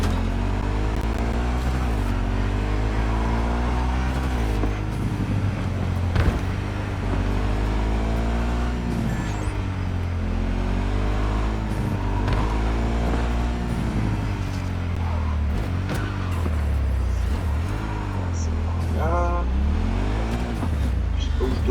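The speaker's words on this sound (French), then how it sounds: "Il y a bien du monde ici. Que des camions," Cars and trucks drive through busy city traffic in the video game Cyberpunk 2077, with engine rumble rising and falling as vehicles rev and pass, loud and continuous, while someone talks over it.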